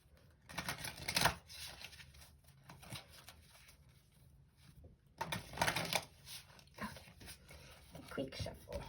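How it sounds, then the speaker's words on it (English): Two bursts of rapid riffling cards, a quick fluttering shuffle near the start and another after a short pause, with soft talk in between. "Quick shuffle."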